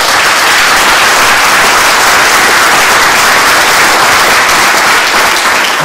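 Loud, sustained audience applause fills a public forum hall on the closing of a developmental center, a dense continuous wash of many hands clapping with no break.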